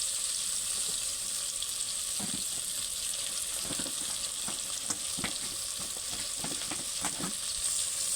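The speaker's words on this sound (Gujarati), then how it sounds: "હિંગ, ભીંડો અને મિક્સ કરી નાખીએ હરખું." Okra with asafoetida and cumin fries in a pan, giving a steady, even sizzle. Scattered scraping stirs come through it, close but fairly quiet.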